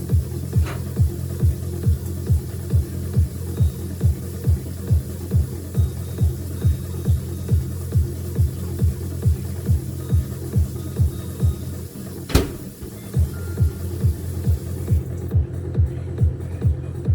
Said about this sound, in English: So there it goes, spinning in the microwave.